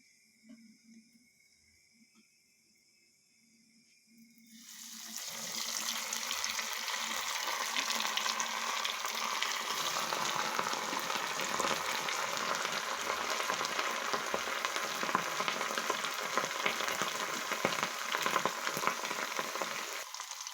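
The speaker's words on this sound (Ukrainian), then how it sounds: "обвалявши нашу рибку, несемо до черпачка і будемо смажити" Near silence for a few seconds, then breaded fish hits hot oil in a pan and a loud, steady sizzle of frying fills the rest, crackling continuously.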